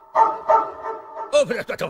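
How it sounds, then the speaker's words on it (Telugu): A dog in a comedy scene gives two short barks and then a quick run of higher yelps and whines, close and fairly loud. "కుక్క. ఇది మామూలు కుక్క కాదు"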